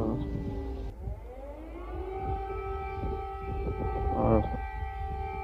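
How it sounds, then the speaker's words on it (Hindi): A civil defense air raid siren wails over a city, a steady sustained tone with strong harmonics that dips and rises slightly, loud and continuous throughout, with faint background noise and no clear talk. "ये सायरन की आवाज़ है"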